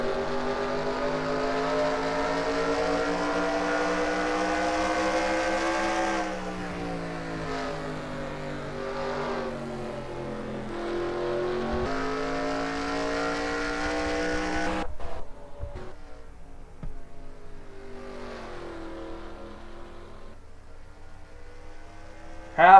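Onboard a stock car racing around an oval, the engine drones loudly at high revs, pitch dipping and rising as it cuts through a corner, then the sound thins and fades toward the end.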